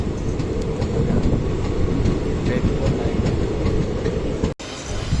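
Koyna Express rumbling steadily along the rails between Lonand and Wathar near Satara, a continuous loud low roar of wheels and carriages with faint rhythmic clatter, briefly cut by a momentary dropout near the end.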